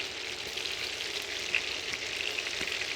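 Onions frying in a hot pan during steak cooking, a steady close hiss and crackle of sizzling oil with small pops, continuing without talk.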